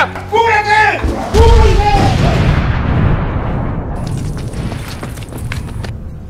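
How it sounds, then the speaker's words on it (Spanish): A bomb explosion erupts after shouted warnings, a heavy booming blast that rolls out into a long, decaying rumble, loud and close, with a high ringing tone lingering near the end; voices are heard at the start. "¡Dejen eso! ¡Es una bomba! ¡Cúbrete!"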